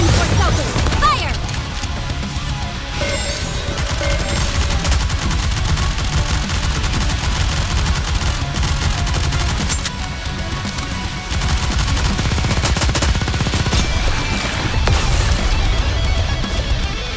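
Rapid gunfire from the mobile shooter game NIKKE: Goddess of Victory, dense continuous bursts with crashes and impacts mixed in, loud and sustained throughout over game music.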